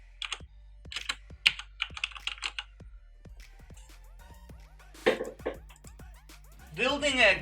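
Keystrokes on a Corsair K70 RGB MK.2 mechanical gaming keyboard, close and clear, come in quick bursts of clicks and clacks with brief pauses, while faint chirpy electronic tones sound in the background.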